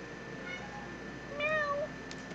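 A house cat named Jareth gives a single clear, drawn-out meow that rises and falls, close by, against a quiet background hum.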